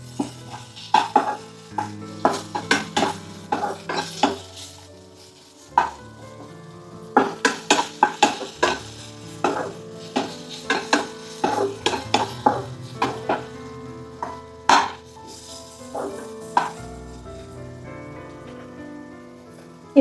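A pan of frying vegetable pieces is stirred on a low flame, with repeated sharp scrapes and knocks of a spoon against the metal in irregular bursts over a soft background sizzle.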